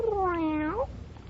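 A hungry kitten meows once, a long clear cry that slides downward and then rises sharply at the end, close and loud over a low steady background hum, with no talking.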